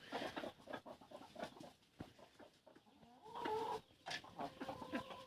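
A backyard rooster clucks in short, irregular bursts close by, with some louder calls toward the middle and end, and no talking over it.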